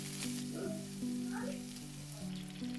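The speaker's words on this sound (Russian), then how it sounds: "Отправляем лук в горячее масло и, помешивая, обжариваем до мягкости." Onion frying in hot oil in a single pan while being stirred, a quiet, soft sizzle over a steady low background hum, with no talking.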